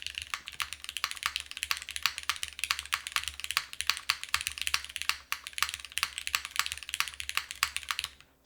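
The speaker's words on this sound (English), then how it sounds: "my favorite combination is cherry on aluminum. I just think it sounds insane." Continuous fast typing on a Manta mechanical keyboard fitted with Cherry switches and an aluminum case, dense crisp clacks running almost without break, close-miked and alone.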